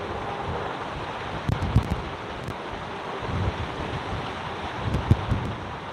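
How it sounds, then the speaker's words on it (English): Strong outdoor wind buffets the microphone in a continuous rough roar, with louder gusts thumping through at intervals. "It's a little bit too windy for me to be out here live streaming."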